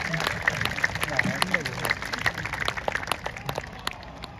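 Audience applause at an outdoor festival event honoring voice actor Morikawa, a steady wash of clapping with sharp individual claps standing out, some crowd voices mixed underneath.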